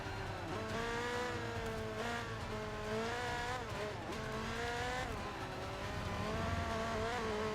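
A race car in the Forza 5 video game struggles for grip on the track, its engine droning and rising and falling in pitch as tires squeal and skid, loud and continuous without talk.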